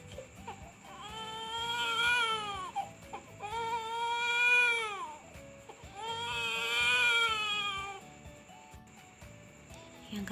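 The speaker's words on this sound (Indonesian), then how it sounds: "Yang kedua yaitu suara tangisan." Loud, wailing infant crying in three long, rising-and-falling sobs with brief gasping pauses between them, close and clear against a faint background hum, no talking.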